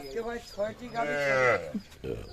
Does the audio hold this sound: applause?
no